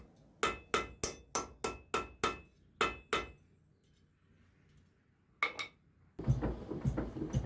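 Sharp metallic hammer blows strike hot iron while forging a medieval bodkin arrowhead, a quick run of about ten evenly spaced ringing hits, then a pause, two more strikes and scraping clatter.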